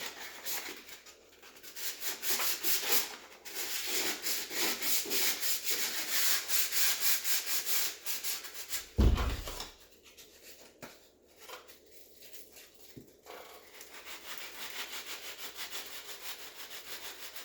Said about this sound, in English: there's a little bits in the corner I'm going to get with this bit of sandpaper.